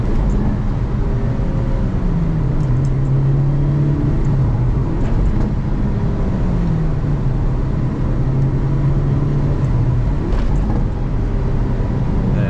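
A Hyundai Avante N with a manual gearbox hums loudly from inside the cabin as the engine pitch dips and rises during a rev-match downshift into second gear at about 4000 RPM, a continuous road-noise drone underneath.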